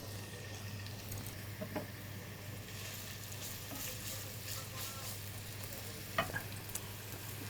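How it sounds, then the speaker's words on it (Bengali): Chopped onion frying in hot mustard oil gives a steady, faint sizzle with occasional stirring scrapes, under a low constant hum. "পেঁয়াজ কুচিটা আমি দিয়ে হ্যাঁ, দিলাম গরম হয়ে গেছে তেলটা"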